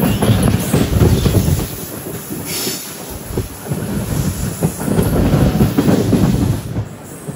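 Tirupati–Villupuram Express rolling into Ramapuram station, heard from aboard as a steady rumble with rhythmic wheel clatter and wind buffeting.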